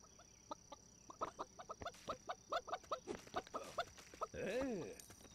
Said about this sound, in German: ein Huhn, welches Eier schießt.